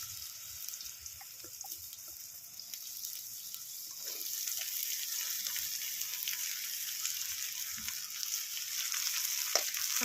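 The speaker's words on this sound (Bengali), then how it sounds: "এর মধ্যে 2টো শুকনো লঙ্কা ফোড়ন দিয়ে দিলাম, দিয়ে এবার লাউটা দিয়ে দেবো।" Sliced bottle gourd fries in hot oil in a pan seasoned with dried red chillies. A soft, continuous sizzle holds steady with faint stirring clicks, quiet and close, and gradually grows a little louder.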